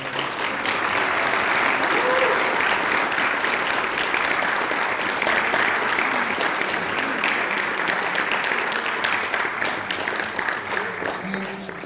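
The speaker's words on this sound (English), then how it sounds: "How about a big round of applause?" An audience at a Seattle City Council candidate forum applauds, steady, dense clapping that carries on for about twelve seconds, filling the room without talk over it.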